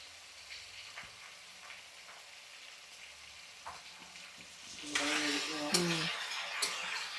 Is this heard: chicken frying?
yes